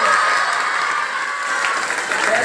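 Steady, dense applause from a crowd honouring the principal at a 2024 school farewell ceremony at a Kakrahati government high school, filling the whole moment with even, sustained clapping.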